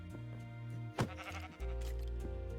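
A sheep in modded Minecraft lets out a single sharp bleat over steady game background tones, clear and fairly close, with nobody talking.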